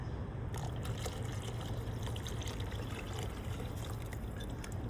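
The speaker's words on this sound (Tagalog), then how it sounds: "Dagdagan ng 1 litrong tubig at saka haluan siya ng seafood seasoning 2 kutsara." A steady stream of water is poured into a cooking pot for seafood paella, an even, continuous splashing and trickling heard close by without interruption.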